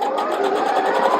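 A sewing machine runs in a steady rapid patter, stitching quilt half-square triangles along a diagonal line, close and continuous with no pause.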